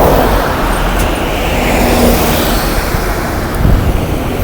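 Street traffic in Kyoto, Japan, with cars rolling past in a steady, loud roadway wash that swells and fades slightly, no voices over it.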